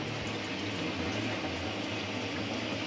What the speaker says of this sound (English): So we're running the shower.